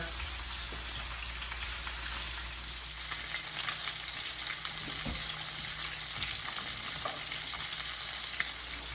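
Uncooked chorizo frying in oil in a pan for paella, a steady dense crackle and spatter like light rain, continuous and even at a moderate level with no talking.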